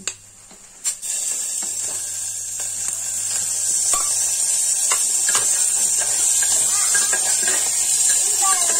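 Chicken hits a hot pan and sizzles, with a couple of sharp knocks at the start. A bright, steady hiss swells after a few seconds and stays loud and close, with light crackles on top.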